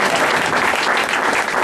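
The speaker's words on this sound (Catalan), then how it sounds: "Si anem aplaudint tots" A large audience at a Castellers de Cornellà honour-shirt ceremony claps continuously, a dense, steady wash of applause filling the whole moment with no break.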